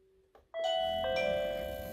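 A Winees WiFi video doorbell's extra indoor gong chimes after a button press, sounding a loud, sustained two-tone ding-dong with ringing overtones that decay slowly, following a soft click.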